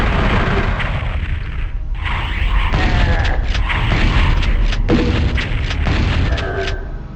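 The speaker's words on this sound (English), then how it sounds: "I think I got double explosion with that one." Heavy booming explosions thunder in the PlayStation Doom port PsyDoom, several deep blasts crowding together over continuous loud rumble and gunfire-like crackle, then tapering off at the end.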